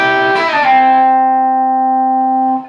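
Electric guitar with heavy distortion playing a quick lick, a slide back down the neck then a pull-off, ringing out as one sustained note alone for a couple of seconds.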